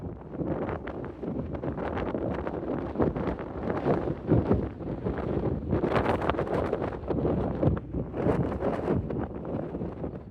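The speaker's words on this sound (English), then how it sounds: "There's going to be a lot of wind noise in these videos today." Heavy wind buffeting the microphone, rumbling low gusts that swell and drop irregularly, with brief louder bursts; no talking.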